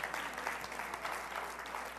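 An audience claps at a live presentation, a faint, steady patter of applause that holds evenly through a brief moment with no voices over it.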